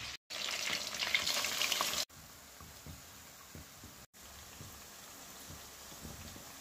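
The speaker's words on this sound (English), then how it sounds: "you see French fry ackee, see there?" Ackee fries in oil in a Jamaican home kitchen, giving a soft crackling sizzle. A louder burst comes first, then fainter popping, broken by brief cuts of silence.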